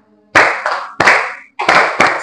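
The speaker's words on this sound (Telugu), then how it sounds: "చప్పట్లు కొట్టుకుంటా పాడదాం" A congregation at a Telugu Sunday church service claps along to a worship song with no drums. Loud, close, unison claps land in a steady beat of paired strikes with no voices.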